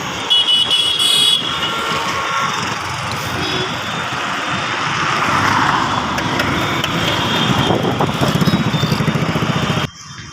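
A motorcycle rolls into a busy petrol pump to refuel, its engine a loud, continuous drone that swells and eases as it moves, then cuts off sharply near the end.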